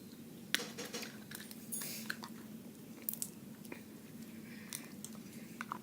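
Crunchy slime squishes and crackles up close in scattered small pops and clicks over a low steady background hum, quiet and with no talking.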